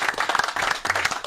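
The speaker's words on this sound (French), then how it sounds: "Ah bah, allez, les applaudissements, c'est encore mieux." A short burst of hand clapping from a small group, uneven and fairly close, lasting just over a second.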